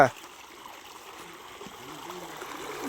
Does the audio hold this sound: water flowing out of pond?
yes